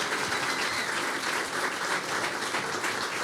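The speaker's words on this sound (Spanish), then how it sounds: "entonces doble aplauso porque es profe" An audience at a live talk show about poetry and books claps for a professor, a full, continuous roar of many hands that stays level throughout, fairly close and without voices.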